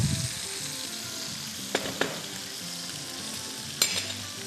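Oil sizzling in a pan while cooking chicken with rice and vegetables, a quiet steady frying hiss with a few light clicks of a utensil against the pan.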